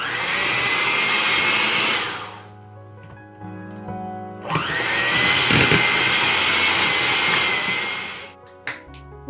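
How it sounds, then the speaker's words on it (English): Electric mixer creaming butter on low for lemon buttercream frosting, a steady whirring motor hum that runs for about two seconds, pauses, then runs again for several more seconds before stopping. "get our mixer and put it on low and start to cream the butter."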